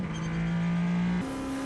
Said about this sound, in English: We can hear just how delicately he is moving through this Dunlop chicane as he goes over both apex curbs and delicately puts the power down on the exit